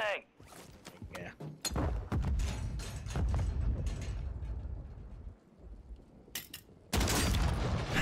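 Gunfire in the Call of Duty Warzone video game: several abrupt, loud shot-like bursts and mechanical clatter over a rumbling game soundscape, with a sharp blast near the end.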